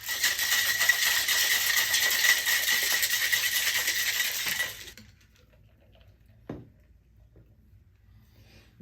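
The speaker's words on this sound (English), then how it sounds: "Now, I'm going to take a little bit of ice, put it in the glass, shake it to give it a chill." Ice rattling as it is shaken in a glass to chill it for a coconut rum Tipsy Mermaid cocktail, a steady dense clatter for about five seconds, then stopping, with one brief clink afterward.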